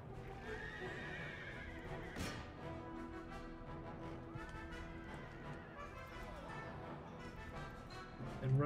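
Horses in the strategy game Empire: Total War gallop with layered clip-clop hoofbeats while several neigh and whinny, under a busy battlefield mix with faint voices.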